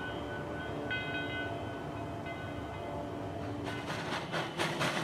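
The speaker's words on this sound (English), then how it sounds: "Number 29 drops its 2 coaches at the station platform, then runs around to couple to the other end of the train" Steam locomotive number 29 of the Virginia & Truckee runs around its two-coach train at a station platform, a steady rumbling churn with ringing tonal whistle-like tones and louder hissing bursts near the end.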